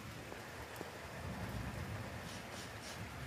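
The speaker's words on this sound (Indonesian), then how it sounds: "Masih hujan teman-teman." Steady rain falls on an outdoor surface in the wet season, a dense even patter that holds through the whole stretch, moderately loud and close, with faint distant rumbles in the background and no voices.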